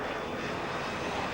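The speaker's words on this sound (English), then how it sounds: "specially equipped Nimrod maritime patrol aircraft, which is stationed at RAF Kinloss in Scotland" Nimrod maritime patrol aircraft of the RAF, stationed at Kinloss in Scotland, its engines giving a steady, loud broadband roar with no pauses or voices.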